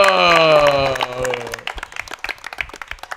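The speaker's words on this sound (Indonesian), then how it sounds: "Tepuk tangan dulu, Tepuk tangan dulu" Studio audience applause welcoming a guest on a Balinese talk show, starting under a host's voice and a sustained musical tone, then thinning into scattered individual claps for the rest.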